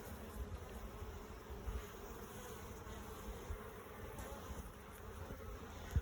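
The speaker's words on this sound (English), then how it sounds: "Take a look at those bees." Honeybees hum steadily around open beehive frames during an inspection, a dense continuous buzz with individual insects flitting close by, no voices.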